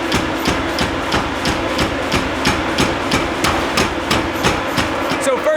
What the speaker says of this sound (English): So we're gonna go to the hammer. That's where they're making the Damascus steel.